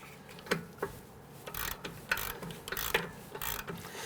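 A 19mm wrench breaks a rear brake caliper bolt free on a 2011-2017 Nissan Quest, giving a run of close, sharp ratcheting clicks and metallic ticks in an irregular rhythm, with no talking.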